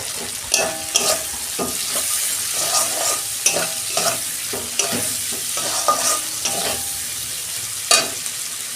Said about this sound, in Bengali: পেঁয়াজটা আমার ততক্ষণ ভাজা হোক